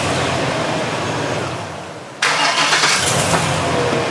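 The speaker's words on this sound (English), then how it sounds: "Let's see if the truck cranks up good." A pickup truck engine on a budget tow rig cranks with a grinding whir, then catches and fires at once into a loud, steady idle, heard up close.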